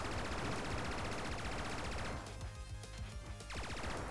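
Rapid, continuous gunfire from the video game Gun Crazy, a dense loud stream of shots that thins slightly partway through before another quick burst.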